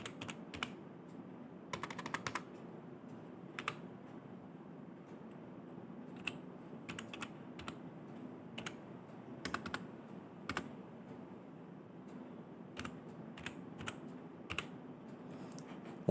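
Fingers type a bank code on a computer keyboard, a steady scatter of light clicks with short bursts and pauses over a low background hum.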